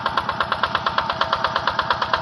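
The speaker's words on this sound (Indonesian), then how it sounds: "inilah mesin traktor sawah dengan mereknya" A Yanmar TF 65 single-cylinder diesel engine on a Quick G600 rice-field tractor runs close by, thumping in a fast, even rhythm of steady knocking pulses.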